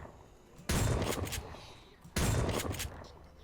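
Two loud shotgun blasts from 7 Days to Die, each a sharp crack with a short rumbling tail, spaced about a second and a half apart over a quiet background.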